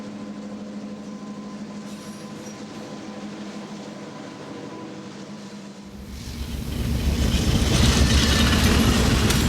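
Amtrak passenger train at Brookfield Depot in 1972, a steady low mechanical rumble with a faint tonal hum that swells sharply louder near the end as the train rolls close past.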